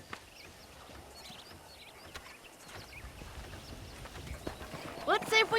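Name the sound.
horse hooves and neighing, from a video game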